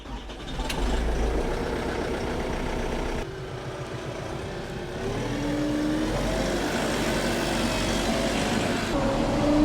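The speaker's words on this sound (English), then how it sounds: "So go ahead and start warming the tractor up." A tractor engine runs at a steady idle, a loud continuous rumble that shifts slightly in pitch as it warms up.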